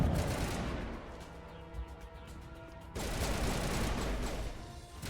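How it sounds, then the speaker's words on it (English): Gunfire in Mass Effect, bursts of rapid rattling shots, loud at the start, a quieter stretch of sporadic pops, then another dense fusillade after the midpoint. "Stop firing at nothing, you goobers."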